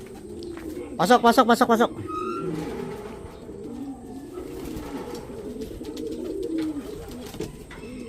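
Racing pigeons returning to their loft during club training give soft, low cooing throughout, while a man nearby calls out several quick, repeated words and speaks briefly.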